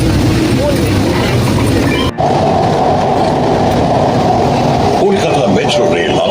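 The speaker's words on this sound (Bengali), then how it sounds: "মেট্রো চলে এলো, উঠে পড়লাম।" A Kolkata metro train rumbles along with a steady loud roar and a sharp clunk partway through, heard up close from inside the carriage with people talking.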